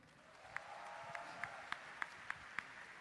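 On a live comedy roast stage, about seven sharp claps fall at an even, steady rhythm, faint and fairly distant above a low room murmur, with no talking over them.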